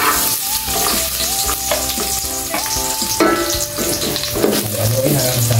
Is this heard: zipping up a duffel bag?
no